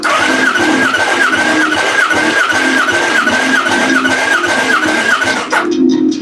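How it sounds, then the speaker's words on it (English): A motorcycle engine held at wide open throttle makes a loud, close, continuous whine with a rhythmic wavering pitch, then drops off abruptly just before the end. "Wide open throttle. Let's see what it does."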